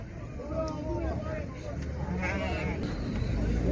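Sheep at a Mashtaga livestock market, Qala breed among them, bleat in short wavering calls over constant crowd chatter and background noise, with people talking nearby.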